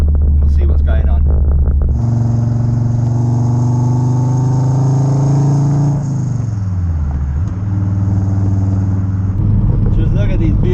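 A Ford XR5 turbo car drives along a road, its engine holding a steady, close droning hum that sags in pitch midway, then levels out before the engine fades at the end.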